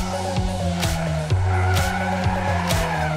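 A drift car with a rotating, counter-steered slide, its engine revving in stepped bursts as the throttle lifts and returns, with loud, sustained tire squeal throughout.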